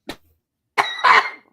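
A woman coughs with a COVID cough: one short cough, a pause, then a louder, harsher double cough. It is close and clear and stands alone.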